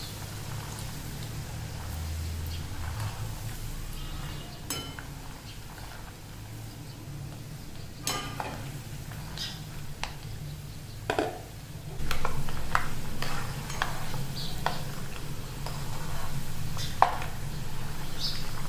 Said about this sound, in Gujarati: સૌપ્રથમ આપણે એક ગરમ તેલમાં એક મોટી વાટકી જેટલા દાણા લઈને તેને તળી લઈશું